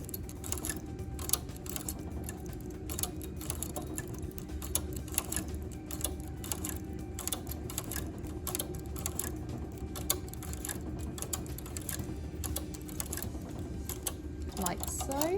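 Knitting machine carriage running across the needle bed while knitting a row for an open lace knit, a steady busy mechanical clatter and whir throughout, close and fairly even, with no clear talk.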